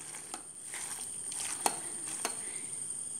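A masala mixture is stirred in a pan, giving a series of soft scrapes and clicks over a low steady hiss, with a few sharper taps standing out.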